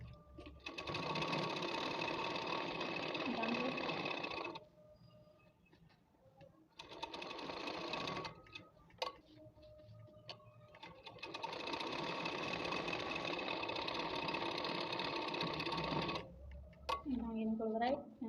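Sewing machine stitching a salwar, running in three long motorized bursts separated by brief pauses, close and steady, with a short burst of slower clicks near the end.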